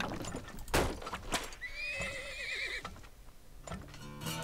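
A horse neighs in the video game Turmoil, a loud quavering whinny lasting about a second, set among hoof clip-clops and sharp clicks, with no talking.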